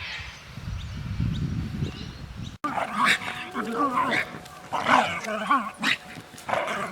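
Dog barks and growls in a lively burst, loud and close, several overlapping yelps and bow-wows after a brief cut, with a calmer opening that has low rumbling noise.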